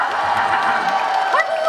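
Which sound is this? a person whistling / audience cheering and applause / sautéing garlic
audience cheering and applause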